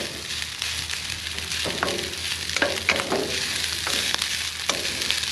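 Pork fried rice sizzles steadily in a hot pan while a utensil stirs and scrapes it in repeated strokes, a close, continuous frying hiss broken by clacking scrapes.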